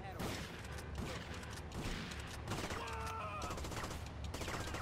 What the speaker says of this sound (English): Leone's guys, they're shooting me, bro?